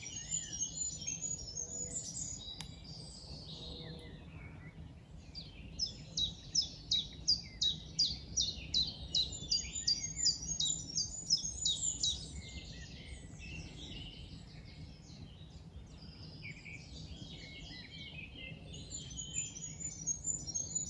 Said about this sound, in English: here we've got a Goldcrest singing up above me here